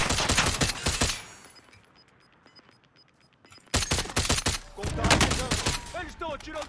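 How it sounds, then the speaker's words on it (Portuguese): Bursts of rapid automatic gunfire from a Call of Duty match on Rebirth Island, loud and dense, dropping to a quiet lull midway before heavy firing resumes with scattered clicks. "Eles estão atirando em mim"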